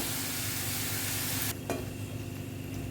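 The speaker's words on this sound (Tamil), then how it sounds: "இப்போ நம்ம இந்த எண்ணெயில் இதை சேர்த்துப்போம் எல்லா மஷ்ரூமையும் வச்சுங்க" Mushrooms added to hot oil in a pan, a dense crackling sizzle that drops sharply in intensity halfway through, leaving a softer steady frying hiss with faint stirring.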